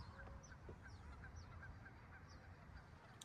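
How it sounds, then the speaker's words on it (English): Geese honk repeatedly from a distance beside a lake in Fremont, California, a scattered flock calling over a steady low outdoor rumble. "I started hearing some geese, which you can hear now as well."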